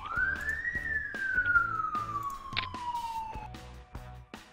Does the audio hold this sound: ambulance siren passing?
yes